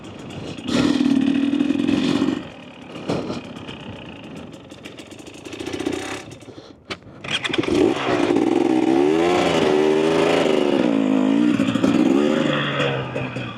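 A 2024 Husqvarna TE250 dirt bike engine putters at low revs through slow U-turns on loose trail ground, rising and falling with throttle blips, loud and close, with a brief dip before revving steadily again.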